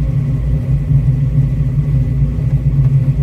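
A Fox Body Mustang with a big cam and Pro-M EFI rolls slowly downhill at low RPM, its engine giving a loud, deep, lumpy rumble that surges and bucks unevenly from inside the car.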